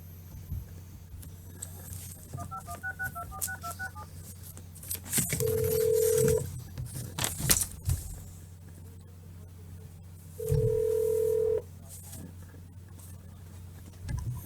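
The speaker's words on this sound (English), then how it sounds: "Call to Tim Zike, Thursday, the 23rd." A phone call to a building department is placed: a string of dial-tone beeps is punched in, then two long steady ring tones sound with a pause between them, clear and close, with no talk.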